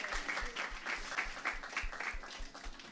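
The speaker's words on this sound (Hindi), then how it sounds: "एक बार उनके लिए जोरदार तालियां" Audience applause at a music event honoring a singer, a steady dense wash of clapping filling the whole stretch at moderate level, with no one speaking over it.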